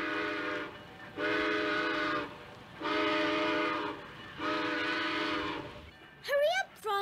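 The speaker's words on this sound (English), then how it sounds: "The train is pulling out." Animated train whistle as a train pulls out of the station, four long, loud steady blasts separated by short pauses, followed by brief wavering sounds at the end.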